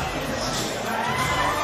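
A boxing arena crowd roars and cheers after a women's fight between Jazzy Parr and Brianna Harrison, a dense, steady wash of shouting voices.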